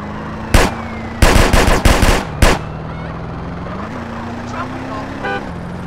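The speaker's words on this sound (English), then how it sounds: "I'm shooting at the damn blur," Loud bursts of automatic gunfire during a drive-by in GTA San Andreas: one short burst, then a longer rattling volley and a final shot, over a steady car engine hum and occasional voices.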